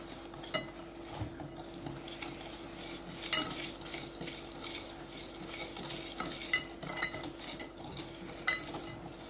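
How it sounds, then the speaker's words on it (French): Spoon stirring yogurt cake batter in a bowl, a steady run of soft scraping and clinking strokes, quiet and close, with no talking. "on va mélanger tout ça"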